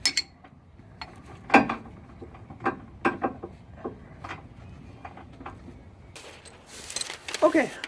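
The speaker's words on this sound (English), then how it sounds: "I'm quickly going to torque this down" Socket wrench tightening trailer hitch bolts on a 2015 Chevrolet Camaro during a Draw-Tite hitch installation, heard as irregular close ratcheting clicks and clanks in short bursts, with a louder scraping clatter near the end.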